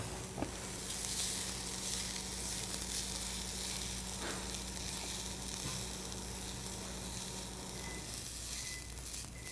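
Onions fry in a pan with a steady, soft sizzle and hiss, continuous and close, with occasional faint clicks of stirring.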